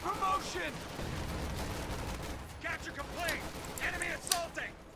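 Rifle gunfire from a Company of Heroes 2 battle, with scattered shots and explosions rumbling in a dense, continuous wash of combat noise under a commentator's voice.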